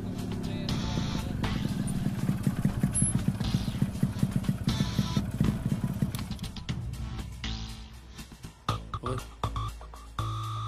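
A motorcycle engine drones steadily as two riders travel along a road, the low rumble continuous and close for several seconds before breaking into scattered, fainter noises.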